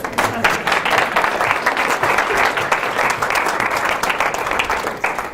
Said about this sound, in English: You can clap because you're glad it's over.